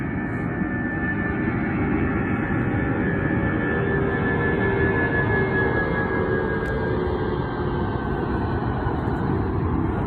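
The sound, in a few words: airplane taking off beneath a hot air balloon at an airport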